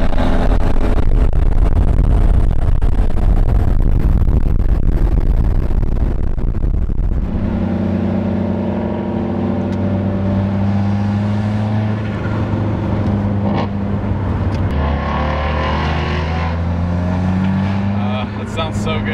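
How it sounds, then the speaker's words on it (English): A loud car engine runs steadily, with strong low harmonics that shift in pitch as it revs, and people talk over it throughout. "His car is so loud."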